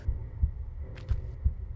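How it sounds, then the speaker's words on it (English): Heartbeat ambience in the Atlantis level of Tomb Raider 1, a low doubled thump repeating steadily over a quiet hum, with a couple of faint higher swishes between beats. "you still hear the heartbeat, but like a another thump going on, like a banging almost."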